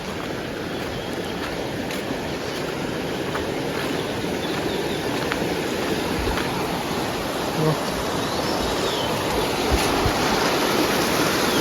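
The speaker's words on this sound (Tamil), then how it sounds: "இங்கே கொஞ்சம் தண்ணி போயிட்டுருக்கு" Steady rushing of the Kulangal River stream near Valparai, a constant broadband wash with no clear pauses, fairly close and loud.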